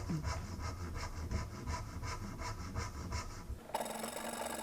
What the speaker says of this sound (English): I like to use a handsaw because I can be very precise with it.